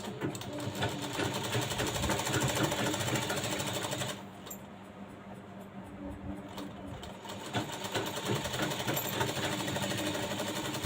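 A sewing machine stitches a blouse lining in a fast, continuous rattle, pausing briefly in the middle before resuming the same steady run.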